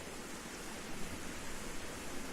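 Heavy rain pours down in a video game, a dense, even roar of falling water that holds steady at moderate volume with nothing else on top.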